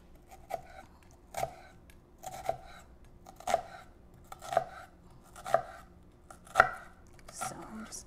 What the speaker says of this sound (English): So I'm just dicing